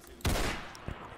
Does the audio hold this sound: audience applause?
no